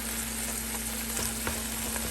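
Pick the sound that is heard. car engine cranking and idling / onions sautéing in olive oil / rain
onions sautéing in olive oil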